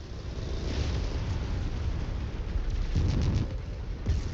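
Missile blast in the mech combat game MechWarrior 5, a heavy rumbling explosion roaring continuously with deep low-end weight and a crackling swell near the end, no voices over it.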